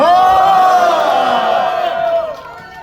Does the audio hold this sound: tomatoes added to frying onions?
no